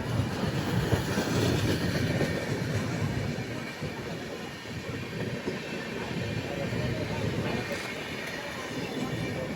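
The Vivek Express rolls along the rails with a steady loud rumble and rattle of carriages, continuous throughout with faint clatter, heard from inside the moving train.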